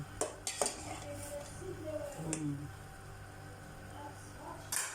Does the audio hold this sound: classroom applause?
no